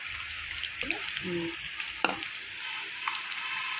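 Food frying in a pan with a continuous loud sizzle, broken by a few stirring scrapes and clinks.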